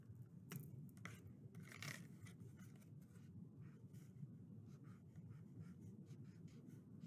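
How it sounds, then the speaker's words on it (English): Pen writing by hand on a paper Lent craft, close and quiet scratchy strokes running steadily for several seconds with occasional sharper ticks, over a low background rumble and no voices. "So I'm going to write,"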